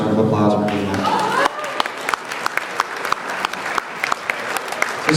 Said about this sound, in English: I want to give them a nice round of applause for doing that